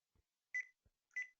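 Telephone keypad tones as a number is dialed: two short, clear beeps spaced apart, each preceded by a faint low button click, quiet and without talk.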